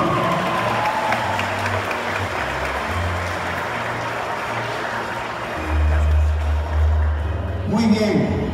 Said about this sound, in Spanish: Fuerte el aplauso también para ella.